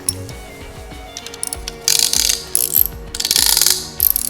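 A hand ratchet clicks in quick repeated bursts while tightening a piston ring compressor around a piston for a Cadillac 390 engine, with metallic pawl chatter in several separate strokes and no talking.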